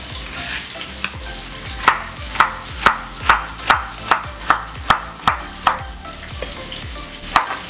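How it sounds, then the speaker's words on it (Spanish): A knife chops zucchini on a board: about ten sharp, evenly spaced strikes in a quick steady rhythm, preceded by a few lighter taps over a low background hiss. "picaremos nuestra calabacita"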